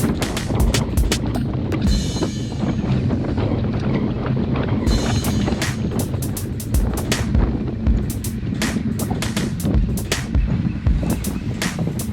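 Loud wind roars and buffets across the microphone while cycling on a group road ride at the Woodlands Marathon, gusting continuously with sharp crackling pops throughout.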